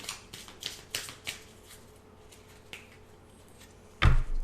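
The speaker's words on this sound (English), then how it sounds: "Shuffle them." Pandemic board game cards being shuffled, a run of quick crisp riffling bursts up close, then a louder thump and clatter near the end as the deck is squared; no talking.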